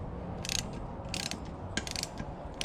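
A 7/32 socket ratchet clicks in short bursts of rapid ratcheting while turning a bolt by hand on a Briggs and Stratton engine, close and fairly quiet, with pauses between strokes.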